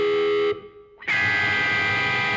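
An electric guitar chord of three clashing notes runs through a wah pedal rocked by foot. A distorted tone drops out briefly, then returns with a rising sweep and sustains loudly.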